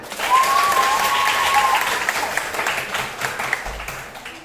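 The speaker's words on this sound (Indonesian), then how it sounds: "Beri tepuk tangan." A classroom of students applauds a student group in a lively burst that slowly thins out, with some cheering or a whistle-like voice rising over the clapping early on.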